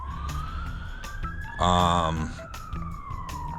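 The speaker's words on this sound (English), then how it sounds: "There goes more sirens." A siren wails steadily in the background, its pitch gliding up and down, with a brief loud horn-like blast partway through.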